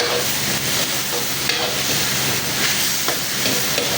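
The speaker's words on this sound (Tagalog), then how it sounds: "Since mainit na mainit na po yung ating mantika, kaya madali lamang po maluto yung ating bawang at sibuyas." Garlic and onion fry in very hot oil as the base for adobong kangkong with tofu. A loud, steady sizzle and crackle runs throughout, with occasional stirring scrapes and no talking.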